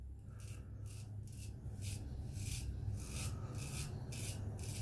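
A razor scraping through shave soap lather on stubble, rhythmic raspy strokes repeating close and fairly quiet, with no talking.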